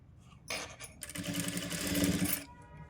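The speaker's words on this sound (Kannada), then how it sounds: "ಈ ರೀತಿ ಇಟ್ಕೊಂಡು ಸ್ಟಿಚ್ ಮಾಡ್ಕೋಬೇಕು ಕಟೋರಿ ಬ್ಲೌಸು ನೆಕ್ ಪೈಪಿಂಗ್ನ" A sewing machine stitches piping onto the neck of a Katori blouse, starting with a short burst and then running steadily for about a second and a half at close range before stopping.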